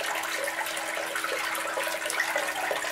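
Water washing sand across a 3D Miller table gold sluice during clean-up, a steady broadband rushing and trickling flow that stays constant throughout with no voices.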